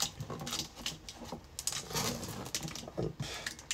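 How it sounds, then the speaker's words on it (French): Packaging rustles and clatters as an EZIclean Cyclomax Air Animal 2-in-1 stick vacuum cleaner is unboxed, with irregular close crinkles, taps and knocks of cardboard and plastic parts. "Donc, je vais pouvoir déballer."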